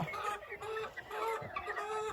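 Several chickens, including Marans hens and roosters, cluck and murmur continuously nearby, overlapping calls filling the whole stretch with steady farmyard chatter.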